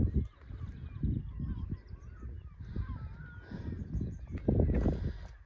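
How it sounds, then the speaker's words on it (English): Bird calls, honking goose-like notes repeating over rustling and footsteps outdoors on São Miguel in the Azores, moderately close and mixed with movement noise. "Oh, cute little bird."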